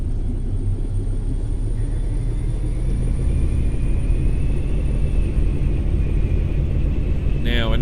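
A heavy truck engine in Euro Truck Simulator 2 rumbles loud and steady throughout, a low continuous drone with a brief higher whine near the end.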